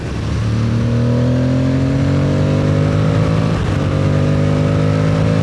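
An Aprilia Tuareg 660 motorcycle engine pulls hard and loud in fourth gear, its pitch rising smoothly and steadily as it accelerates, with a brief dip midway.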